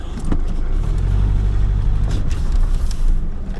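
A diesel Mercedes car engine hums loudly and steadily as the vehicle drives, with a low rumble that swells slightly as it picks up speed.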